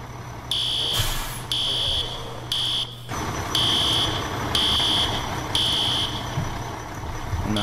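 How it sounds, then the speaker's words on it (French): Building fire alarm in the EmergeNYC firefighting game, a loud shrill electronic tone sounding in repeated evenly spaced bursts of about half a second, with a low mechanical hum underneath. "Ouais, j'entends une alarme"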